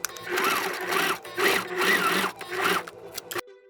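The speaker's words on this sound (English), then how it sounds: "Now I'm going to stitch on the zipper with my sewing machine." A sewing machine stitches a separating zipper onto a belt in bursts of rapid mechanical whirring. Four short runs are separated by brief pauses, close and fairly quiet, and the clip ends with a stop and a faint hum.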